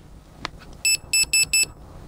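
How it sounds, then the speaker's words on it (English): An Insta360 GO 3 action camera gives four short, bright electronic beeps in a quick even sequence as it powers off, close and clear, preceded by a faint click. "it gives me some little beeps to let me know it's turned off"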